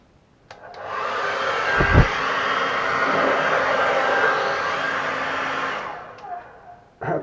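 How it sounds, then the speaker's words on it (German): A hair dryer blows warm air across wet acrylic pour paint, switching on with a loud, steady whooshing roar that holds for about five seconds before cutting off. "jetzt blase ich es einmal wieder rüber. Ich mache es mal mit warmer Luft diesmal"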